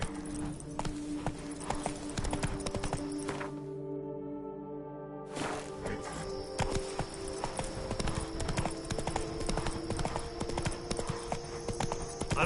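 Roach the horse galloping in The Witcher 3, rapid rhythmic hoofbeats over music that cut out for a couple of seconds, then resume at full pace.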